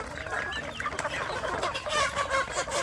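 Free-range village chickens cluck and chatter continuously at close to moderate distance, overlapping calls in an uneven rhythm with no talk over them.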